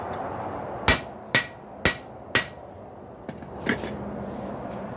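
A hammer strikes a hot steel rail spike on an anvil to flatten it while forging a bottle opener, four sharp ringing blows in quick even succession, then a couple of lighter taps, loud and close.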